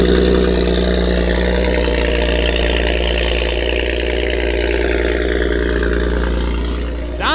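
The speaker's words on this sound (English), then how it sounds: "Go ahead and give it that cold startup." A BMW M4 CS engine running loud and close after a cold start, a steady rumbling high idle with dense harmonic layers that dips slightly near the end.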